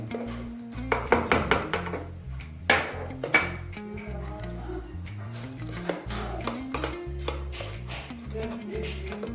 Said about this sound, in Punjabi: ਮੈਂ ਚਮਚੇ ਨਾਲ ਹੀ ਹਿਲਾਇਆ ਇਹਨੂੰ ਪੇਸਟ ਨੂੰ